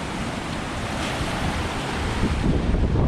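Rough sea waves driven by high wind near a shoreline yard, a dense continuous roar of surf and wind buffeting the microphone, loud and steady and growing slightly stronger toward the end, with no voices.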